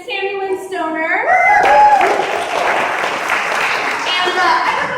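An audience applauds a reader at a Wordstock 2017 pop-up reading event, the clapping swelling after a host's voice at the start and holding steady and dense, with some cheers.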